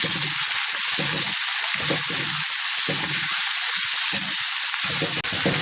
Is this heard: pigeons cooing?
no